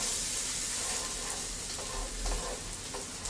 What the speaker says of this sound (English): we're just going to saute these a little bit, let them get a little brown.